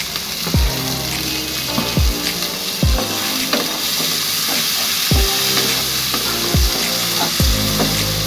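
Onions sizzling in mustard oil in a pan, a steady close fry with soft repeated thumps and stirring on top, no one talking.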